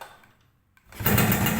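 A Yamaha Alfa motorcycle, just back from a carburetor repair, is kick-started after a moment of near silence and catches right away, settling into a close, steady buzzing idle.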